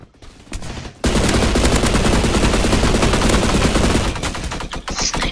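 Sustained rapid automatic gunfire in a video game, loud and continuous for several seconds after a brief lead-in, tailing off near the end.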